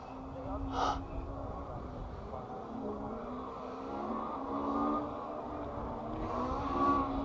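A rally car, apparently a Ford Escort, runs a forest stage in the Severn Valley, its engine droning steadily and rising at moments over several seconds, with a commentator talking over it.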